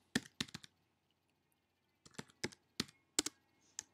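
Keys clacking on a computer keyboard, soft and close, in two short bursts of separate presses with a quiet pause between them.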